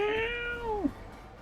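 A single cat meow from the video game Fantasian Neo Dimension, a clear short tonal call that slides downward and ends within a second.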